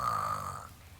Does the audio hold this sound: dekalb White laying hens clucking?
no